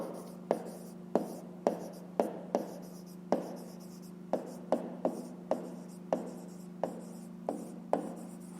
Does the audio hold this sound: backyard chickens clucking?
no